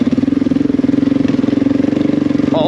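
An adventure motorcycle engine that is hard to start, needs its valves adjusted and is due for suspension work chugs in a loud, rapid, uneven pulse close by, with no voices over it.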